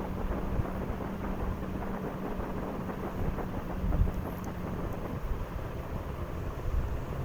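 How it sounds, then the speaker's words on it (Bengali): Strong wind buffets the microphone on a night motorbike ride across the Padma Bridge, a continuous deep roaring rumble that stays loud throughout with slight gusting swells. "প্রচণ্ড বাতাসের শব্দ হচ্ছিল।"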